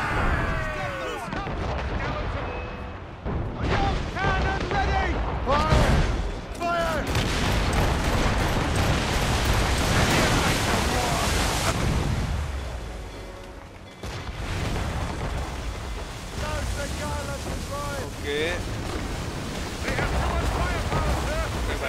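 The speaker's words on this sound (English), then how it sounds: "Enemy ahead! Ready, cannons!" Heavy ship cannon blasts boom repeatedly in the video game Assassin's Creed Rogue amid a dense, chaotic naval battle soundscape, with shouted voices and game effects layered on top.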